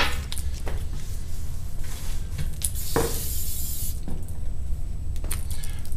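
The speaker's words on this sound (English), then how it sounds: "I'm going to take some spray adhesive here." A short hissing burst from a spray adhesive can spraying at close range, with light clinks and handling noises before and after.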